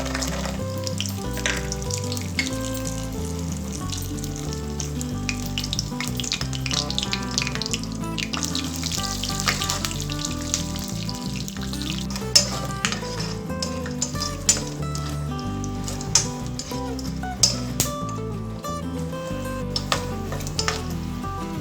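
Peanuts fry in hot oil for a tempering, sending up a steady bubbling sizzle with faint clinks and occasional sharper pops, without any talk.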